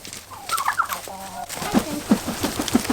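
Turkey hens and toms gobble and cluck close by, a quick run of rising calls followed by several short, sharp gobbles in succession.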